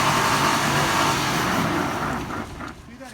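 A Lexus LX 470 is driven flat out through a creek, its engine roaring loud and close while water splashes. The roar fades slightly toward the end.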